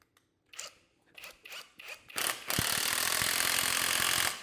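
A 21V cordless impact driver running at high torque gives several short rattling bursts, then a sustained loud hammering clatter, close up.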